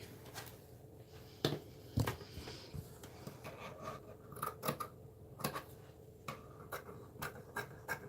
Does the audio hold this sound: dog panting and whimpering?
no